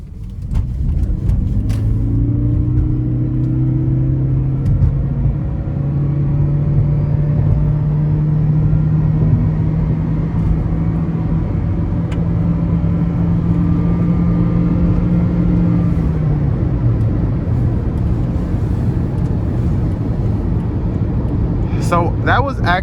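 A 2011 Toyota Prius with a 1.8 liter naturally aspirated four-cylinder and CVT accelerates hard, its engine droning loud and steady from inside the cabin with a rising tone, then easing off near the end.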